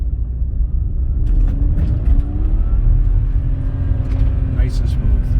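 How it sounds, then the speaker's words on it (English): A 2004 BMW 325xi with a newly replaced rear driveshaft accelerates in first gear on a road test, its engine rumble rising steadily and close from inside the cabin. "So I'm road testing this BMW. I got it in first gear. I'm going to try an acceleration."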